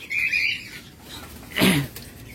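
Lovebirds kept in a breeding setup chirp in short, bright bursts, a couple of calls near the start and a louder, sharper chirp toward the end, close by.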